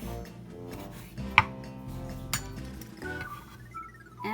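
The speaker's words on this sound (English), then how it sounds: "Let's cut the chilies." A knife chopping chilies on a cutting board while cooking, a few sharp clinking cuts standing out against a quiet kitchen background.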